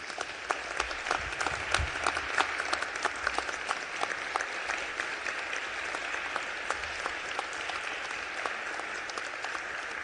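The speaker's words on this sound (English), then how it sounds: "I want to give him another round of applause here today because he deserves it." A legislative chamber applauds Speaker Madigan at a swearing-in ceremony, a long, even stretch of clapping from a large crowd with scattered sharper claps standing out, heard alone without speech.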